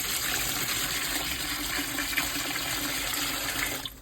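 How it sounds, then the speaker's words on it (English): Steady rushing water pours continuously into the water pan of a Weber Smokey Mountain smoker, a broad gushing wash with little change for several seconds. "Now what we're going to do is just fill it with water."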